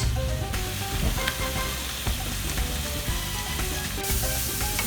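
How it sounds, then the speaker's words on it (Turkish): Close, steady sizzling of sliced potatoes and onions frying in a pan for a tortilla, with occasional stirring clatter and crackles. "Bunları güzelce kızartıp sonra ayıracağız"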